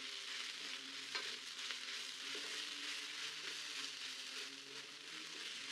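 Roasted dried shrimp (javla) being gently stirred in a pan over a low flame for an Agri Koli dried-shrimp chutney. A steady, dense sizzle runs throughout with faint scraping, and no one speaks.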